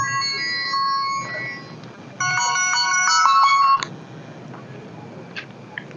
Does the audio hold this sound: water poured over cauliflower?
no